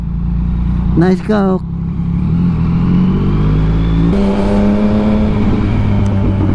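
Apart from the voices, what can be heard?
BMW Z4 car passing on expressway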